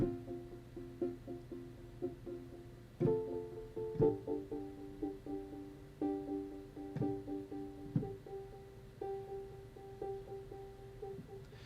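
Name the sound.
keyboard patch Believe Pulse with arpeggiator pulsing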